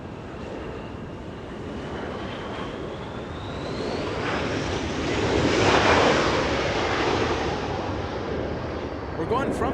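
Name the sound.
SkyWest Embraer E175 jet arriving at LAX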